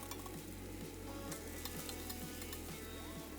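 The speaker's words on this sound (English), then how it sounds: "I fry the zucchini and some onions together in one pan" Zucchini and onions fry together in one pan, a steady close sizzle broken by regular scraping stirs roughly twice a second.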